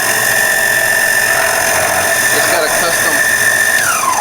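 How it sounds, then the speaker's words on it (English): A drill-powered case trimmer whirs steadily as it trims a rifle brass case for reloading, a loud continuous motor whine holding one pitch, then dipping slightly near the end as the cutter finishes. "So I have my drill trimmer."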